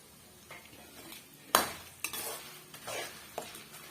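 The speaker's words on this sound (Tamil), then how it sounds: "இந்த மிளகாய் வந்து நல்லா வந்து உப்பி வரணுங்க அது வரைக்கும் நம்ம வறுத்து விட்டுக்கலாம்" Dried red chillies roasting in a pan for a garlic chutney, with a spoon scraping and knocking against the metal in irregular strokes, one sharp clank standing out, over a faint sizzle and no talk.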